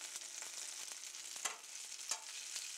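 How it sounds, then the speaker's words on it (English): Wild hog backstrap medallions sizzle in olive oil in a pan at an outdoor cooking spot, a steady close crackling hiss with occasional louder pops and spatters, no voices. "Fried up in some olive oil."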